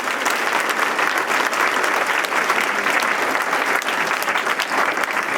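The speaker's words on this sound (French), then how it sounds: "j'aimerais que l'on vous applaudisse très fort ce soir pour cette belle soirée" Loud, sustained applause from an indoor audience at a mayor's New Year wishes evening, dense clapping filling the whole stretch without a break.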